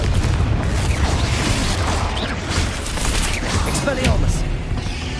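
Spell blasts and booming explosions from combat in the video game Hogwarts Legacy, a dense, continuous barrage of bursts and pops with no clear gaps, loud throughout.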